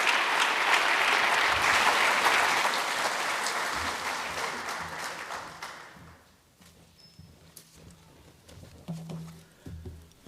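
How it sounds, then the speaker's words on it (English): A conference crowd at a finance event claps loudly for an incoming MC, the dense applause holding strong for several seconds before thinning out and fading into a quiet room with a few scattered sounds. "Let's give Dan a big round of applause as I introduce him as the MC"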